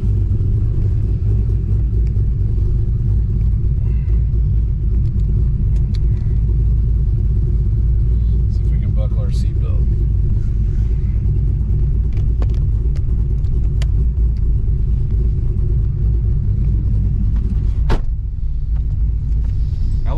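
A car engine idles in cold weather with a loud, deep, steady rumble that holds throughout, heard close with faint clicks and small shifts but no talk.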